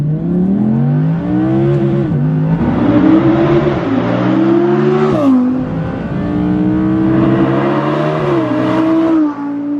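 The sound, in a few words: sports car V10 engine revving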